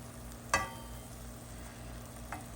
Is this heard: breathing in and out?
no